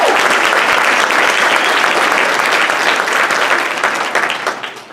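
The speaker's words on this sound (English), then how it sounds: "Please help me in thanking our teachers with a round of applause" A loud, dense round of audience applause for the teachers at a school awards night, steady clapping that tapers off over the last second.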